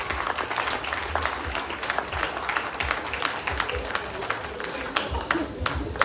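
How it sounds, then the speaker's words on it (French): A crowd applauds steadily at an outdoor patronal festival in Le Robert, Martinique, during officials' speeches: dense clapping that continues without a break for several seconds, fairly close and loud. "Je vous demande de les applaudir."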